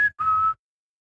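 A person whistles shrilly through the teeth to imitate a quail call, giving two short, high bursts: a brief chirp and then a slightly longer steady note, close and clear with no talking.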